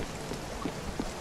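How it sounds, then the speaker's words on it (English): Rain falls in the video game Spiritfarer as a soft, steady hiss with a few scattered drops tapping through it, faint and continuous. "I think Unk likes the rain, so that's why he's outside."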